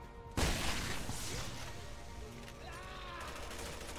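Gunfire in the Resident Evil 6 video game: one sharp, loud shot sets off a burst of crashing noise that trails into a sustained rumble of game sound and scattered impacts.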